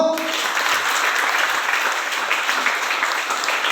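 A church congregation in Balabagan, Lanao del Sur applauds in a loud, dense, continuous burst of clapping that holds steady throughout.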